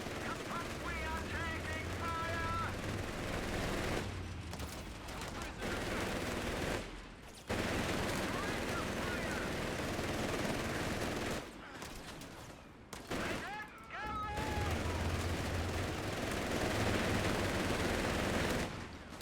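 Sustained rifle and machine-gun fire from a squad of riflemen caught in open ground in Company of Heroes 3, with dense rolling volleys that briefly drop out twice and then resume. A voice talks over the shooting.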